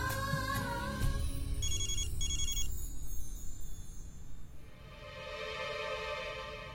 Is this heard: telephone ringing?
yes